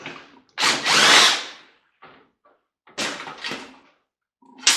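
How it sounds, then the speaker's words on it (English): A power drill pulls screws from a microwave being scrapped, with one long whirring burst, a few short spurts and brief pauses, then a second run, all close and fairly loud. "We need to do some drill work here."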